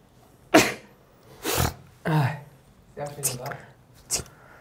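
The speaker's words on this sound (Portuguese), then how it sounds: "Olha parece um gatinho espirrando." A series of small, high-pitched sneezes, about five or six in a row, squeaky and quick like a kitten's, close up with short pauses between.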